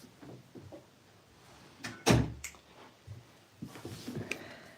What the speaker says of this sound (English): let me just close the doors